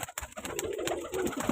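Pigeons for sale coo softly in a short, close burst, with low murmuring calls and a few light flutters over quiet background noise.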